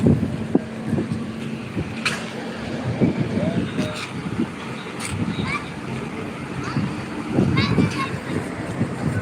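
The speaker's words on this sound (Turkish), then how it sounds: "Valla şansımızdan şu an biraz hava esiyor." Steady wind blows outdoors in a park beside a taxi stand, a continuous gusty rush of microphone buffeting with faint distant traffic and occasional background noises throughout.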